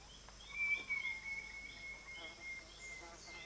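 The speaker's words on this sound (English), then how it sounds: "the distinctive sound of ant birds which follow the swarms" Antbirds call faintly in a tropical forest where they follow a raiding army ant swarm: thin, high whistled notes and short chirps drift from a distance over soft insect hum.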